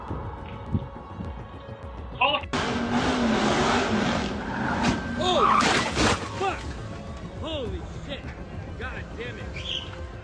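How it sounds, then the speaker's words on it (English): A car drifts into a parking lot with engine roar and tire screech that erupt suddenly partway through, followed by scraping and rattling. Excited voices shout over the noise. "Drifting into a parking lot."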